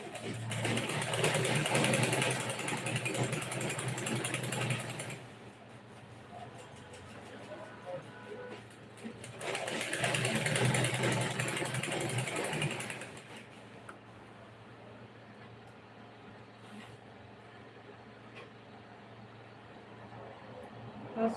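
A sewing machine stitches a garment neckline in two long runs, a close, steady whirring buzz that pauses between passes over a quiet background.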